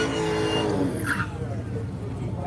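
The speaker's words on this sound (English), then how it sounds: "The unmistakable sound of a Hellcat" Dodge Hellcat roaring at a drag strip, a loud steady engine drone with a brief rising whine midway, close by under faint crowd noise.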